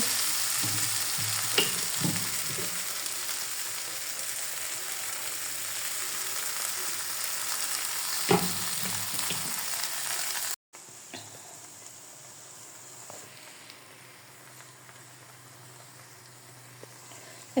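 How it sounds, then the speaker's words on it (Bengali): Noodles fry in a pan with a steady, close sizzling hiss, broken by a few scraping stirs early on and one sharp stir near the middle; the sizzle continues more softly toward the end. "ভেজে নেব।"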